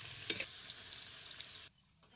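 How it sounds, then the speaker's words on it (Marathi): Paneer cubes fry in hot oil on a wood-fired stove, a soft, steady hiss and sizzle with a brief crackle near the start, stopping abruptly near the end. "हे पनीर तळून घेतो की तेलात."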